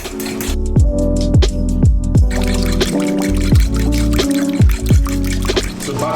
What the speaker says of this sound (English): I've got about 100 ml of whole milk in here. So all it is just to whisk.